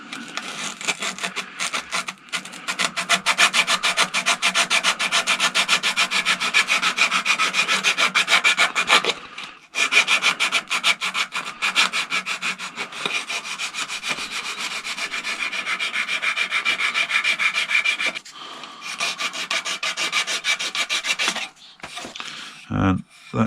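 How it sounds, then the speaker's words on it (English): Steady abrasive rasping of 180-grit sandpaper against wooden flower petals on a locked lathe spindle, continuous and close, with brief pauses near the middle and end, and no talking. "Now I've sanded all the edge of these petals and got the shapes I want."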